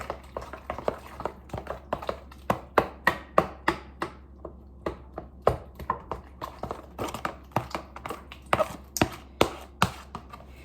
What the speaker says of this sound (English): So then again, I go back in and give it a good stir.